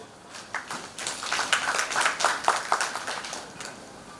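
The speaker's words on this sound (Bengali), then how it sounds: "আমি সবার জন্য একটা হাততালি চাইব।" An audience at a stage program applauds together, a burst of scattered hand claps that swells into dense, lively clapping for a few seconds before thinning out again.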